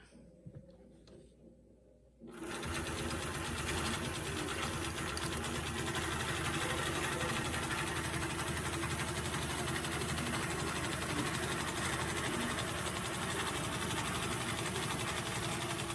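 A longarm quilting machine stitches fabric with a steady, dense mechanical hum and rapid needle rhythm that starts abruptly after a quiet moment and runs continuously, loud and close.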